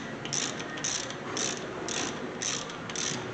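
Rapid ratchet clicks in bursts as a brake bolt is screwed in on a 2013 Hyundai Santa Fe, about six short pulses with a steady close mechanical rattle between them and no talk.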